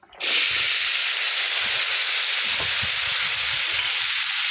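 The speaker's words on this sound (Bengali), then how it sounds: "এর মধ্যে এবারে কেটে রাখা মোচা বেগুন আলুটা দিয়ে দেবো" Chopped banana flower, eggplant and potato hit hot oil in a pan, bursting into a loud, sudden hiss that stays as a dense steady sizzle with faint crackles underneath.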